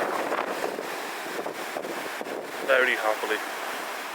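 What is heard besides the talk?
sea waves and wind at Waterfall Cove, Scotland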